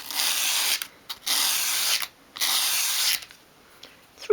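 Dollhouse dresser piece in 1/12th scale swept across an abrasive work surface, three loud close rasping strokes each about a second long, separated by brief pauses and small scrapes.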